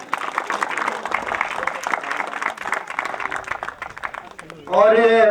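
An audience at a garlanding welcome ceremony before a local cricket match claps in steady applause, and a loud voice cuts in at the end.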